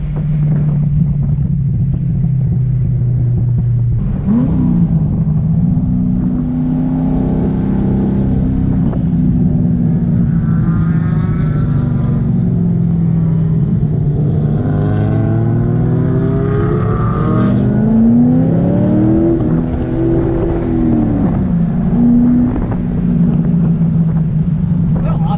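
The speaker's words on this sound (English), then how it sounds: "Driving this drift car like behind a Ferrari." A drift car driving behind a Ferrari at Circuit of the Americas, a loud continuous engine drone rising and falling in pitch through gear changes, with heavy wind buffeting the microphone throughout.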